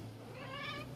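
A neighbourhood stray cat lets out a single short, fairly faint meow close by against a low background hum.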